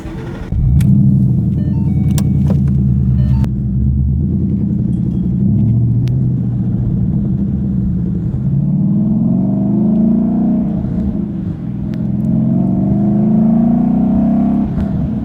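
A 2012 Ford Mustang Boss 302 Laguna Seca drives with a loud, steady V8 rumble whose pitch rises and falls through gear changes, close and continuous throughout with no talking.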